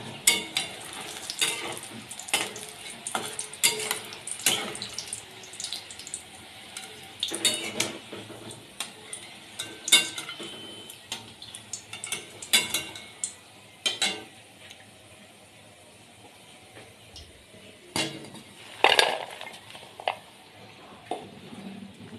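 Khasta madan bhaja pastries deep-fry in a pan of hot oil, a steady sizzle broken by repeated scrapes and clinks of a utensil stirring against the pan, with no talking.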